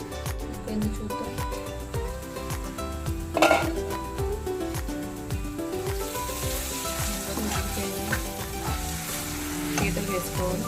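Ingredients for crab curry sizzle and fry in a pan, a steady close crackle with stirring and occasional clinks of utensil against pan, over some background music.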